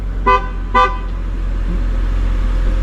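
Two short, loud car horn honks in quick succession, followed by a steady low engine hum from a car warming up nearby.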